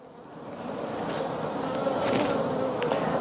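A swarm of honeybees hums around an overturned hive outdoors, a dense droning buzz that swells gradually louder and stays steady, with no talk.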